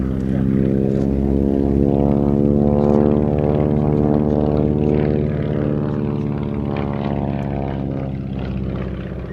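A propeller commuter aircraft at the Shuttleworth air show drones loudly nearby, its strong harmonic engine and propeller hum holding steady, then slowly receding and fading slightly toward the end.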